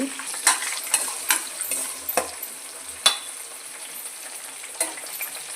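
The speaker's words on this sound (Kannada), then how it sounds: "ಇದನ್ನು ನಾವು ಇವಾಗ ಕೆಂಪುಗಾದ ರೀತಿಯಾಗಿ ಫ್ರೈ ಮಾಡ್ಕೋಬೇಕಾಗುತ್ತೆ" Chopped onion fries in hot oil in a pan for veg fried rice, a steady bright sizzle with a few scraping stirs and light clinks of a spoon, close and alone.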